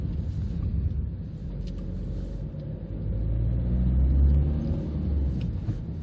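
A 2009 Ford Focus Mark II estate with the 1.6 TDCi diesel engine driving along, steady low road and engine rumble that swells briefly midway as it pulls, with no talk over it.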